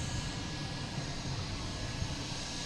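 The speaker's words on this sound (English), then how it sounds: "that Lufthansa retro should be passing right in front of us" A Lufthansa airliner in retro livery passes at Boston Logan International Airport, its jet engines producing a broad, steady roar at moderate distance that holds without a break, with no talking.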